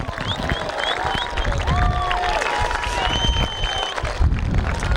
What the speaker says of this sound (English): There's the cheer for Alnwick for only the second time in their history. A huge roar for them.